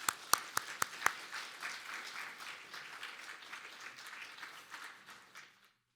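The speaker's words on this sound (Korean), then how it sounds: "박수로 모시겠습니다." A church congregation welcomes a missionary speaker with applause: a few loud, sharp individual claps up close, then a sustained wash of clapping that slowly fades to silence.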